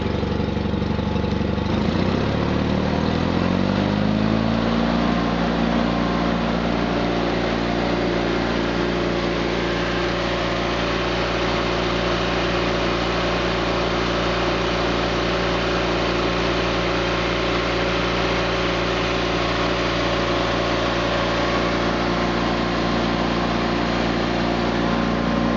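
A John Deere 318 lawn tractor engine revs up from idle over the first few seconds, then holds a steady loud throttled drone while driving an Ace pump under load, with a shaking, even hum and no talk.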